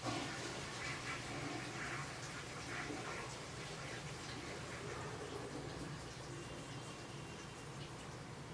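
A toilet flush plays as a sound effect in the J2ME mobile game Ice Age Skater, a faint, steady gush of rushing water that lasts throughout with no speech.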